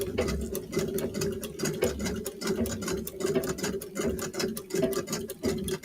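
A sewing machine stitches fleece fabric with a fast, steady mechanical rattle and hum. It runs continuously, close and clear, with no voices.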